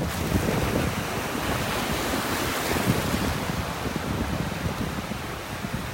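Somewhat rough Gulf Coast surf at a beach in North Naples, Florida, breaking steadily as a continuous near wash with some wind noise, no one talking.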